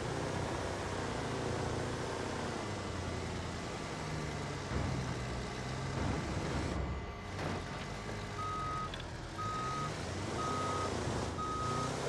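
A dump truck in the BeamNG.drive video game backs up with faint, evenly spaced reversing beeps over a steady engine drone and low rumble.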